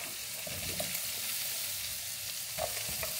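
Tomatoes and onions sizzle steadily in a pan with seared pork belly for a Filipino dish, a close, continuous frying hiss broken by a few soft stirring scrapes and clicks.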